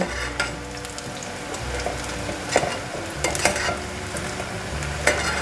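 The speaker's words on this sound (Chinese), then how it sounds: "再转最大火。 把它的油逼出来" Lotus root and tofu fry in hot oil over high heat, giving a continuous sizzle punctuated by scraping spatula strokes and occasional sharper clacks.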